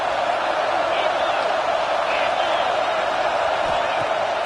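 Stadium crowd in the College Football 26 video game roaring and cheering in a steady, dense wash of noise, with a commentator speaking over it.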